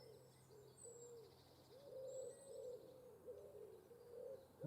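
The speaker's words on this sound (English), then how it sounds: "All the wood pigeons." Several wood pigeons coo in soft, repeated phrases, some nearer and some farther off, with faint birdsong higher up and a low steady hum beneath.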